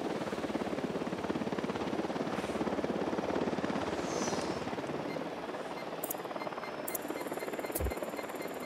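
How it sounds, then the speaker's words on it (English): A surveillance drone flies in the video game Ghost Recon Wildlands, its rapid rotor chop buzzing steadily and loudly throughout, with a few brief electronic tones near the end. "Drone is airborne."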